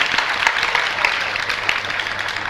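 An audience listening to a Jain sermon applauds in honour, a dense continuous wash of clapping that holds steady throughout, moderately loud and diffuse like a large hall.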